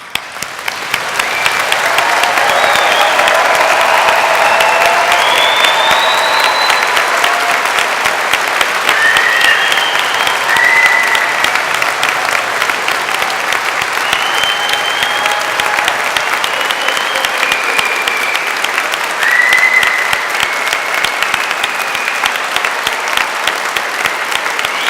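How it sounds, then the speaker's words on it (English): Graduates at a university degree ceremony in Edinburgh receive long, thunderous applause from a large standing audience, a dense, continuous roar of clapping that holds steady and loud throughout, with occasional cheers rising above it. "I would like to hear the most thunderous applause we can possibly give them as we end this ceremony"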